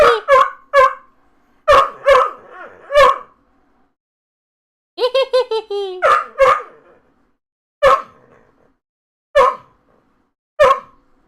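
A dog barks in sharp bursts, several single and paired barks spaced across the clip, loud and close, with a brief stretch of higher squealing yelps in the middle.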